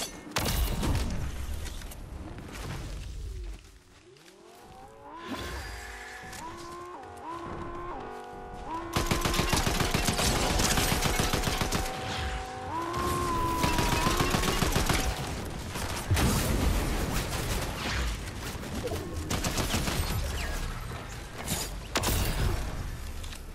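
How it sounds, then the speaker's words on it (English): Video game gunfire crackles from several directions at once in a multi-team shootout, with dense overlapping bursts, a brief lull, then sustained rapid fire that stays loud throughout. "Getting shot from a different side."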